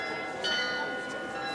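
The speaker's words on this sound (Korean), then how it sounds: "매일 낮 12시와 오후 5시 2번 이곳 시청 광장 탑에 종이 울리고 인형들은 경쾌한 음악에 맞춰 춤을 춥니다." Bells ringing from the city hall tower on the main square in Munich, a steady sustained ringing with layered tones across the short span, heard alone with no talk.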